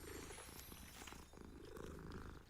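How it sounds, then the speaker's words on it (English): A cat in Hogwarts Legacy purrs after being patted, a quiet, continuous rumbling purr that holds steady with no talk over it. "then we walk up, pat it, and it purrs. Yep, typical cat."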